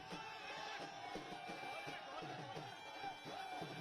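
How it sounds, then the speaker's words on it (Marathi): A crowd of BJP party workers cheering and celebrating an election win in Haryana, a dense, distant-sounding roar of voices with rhythmic beats or claps pulsing through it, fairly faint and steady for a few seconds. "हरियाणामधले आता दृश्य आपण बघतोय कार्यकर्ते जल्लोष करतायत भाजपचे"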